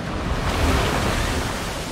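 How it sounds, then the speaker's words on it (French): Water splashes in the queue of a Planet Coaster ride as a steady, full rushing spray that continues for the whole stretch with no talking. "On se fait un peu éclabousser dans la file d'attente."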